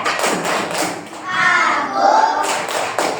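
Young children in a Islamic religion class clap together in a rhythmic chant, several loud claps and thuds mixed with their chanting voices at close range.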